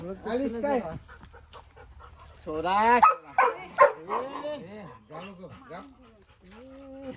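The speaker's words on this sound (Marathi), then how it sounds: "तर पण कुत्री वगैरे आहेत दोन तीन" A dog yelps and whines in short, high bursts close by, with some barking mixed in.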